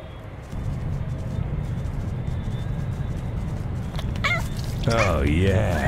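A cat in POSTAL 4 lets out a few drawn-out, wavering meows near the end, over a steady low background hum.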